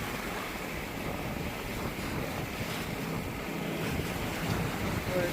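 Big ocean waves on rough water crashing against a sailboat near Perce Rock, a continuous loud rush of surf and wind noise buffeting the microphone throughout, with no clear voices.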